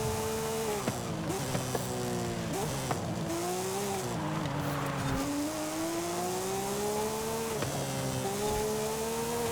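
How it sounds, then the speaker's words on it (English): A Porsche Cayman GT4 RS engine in Forza Horizon 5 revs high and steady, pitch rising and dipping with gear changes, loud and continuous with a brief tire squeal. "It still revs really high."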